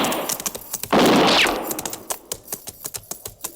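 A burst of loud rifle fire aimed at a shack about 100 yards away erupts in a radio drama, a roaring blast lasting about half a second, followed by a rapid series of lighter clicking cracks fading out.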